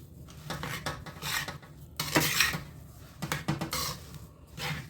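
Fenugreek powder being mixed by hand in a kadhai, close repeated scraping and rubbing of a spoon against the metal pan in uneven strokes, with no talking.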